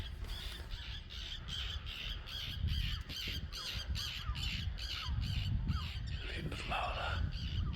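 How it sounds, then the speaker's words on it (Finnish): Crows cawing at a harbour marina, harsh repeated squawks overlapping in an irregular rhythm over a steady outdoor rumble, moderately near, with no talking. "Linnut laulaa."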